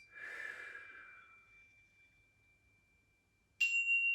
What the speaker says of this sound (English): Breathing in the sea air and blow the sand off your hands.